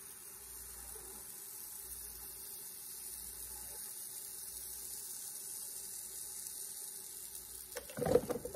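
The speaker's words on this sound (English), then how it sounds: "it's sizzling, let's start a time lapse" Waffle batter sizzles faintly and steadily on a hot waffle iron, a quiet hiss running throughout before a sudden louder clatter at the end.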